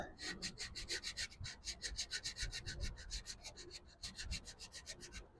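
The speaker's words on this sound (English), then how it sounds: "I'm going to just gently sand down the Timbermate using my trusty Amazon cork block" Timbermate wood filler on a mid-century modern dresser is hand-sanded with a cork sanding block, giving rapid, steady back-and-forth scratchy rubbing strokes, close and fairly soft, with no talking.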